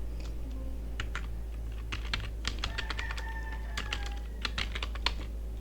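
Typing of the Python command import math on a computer keyboard: quick, close key clicks in uneven bursts, alone without talk, over a steady low hum and faint background tones.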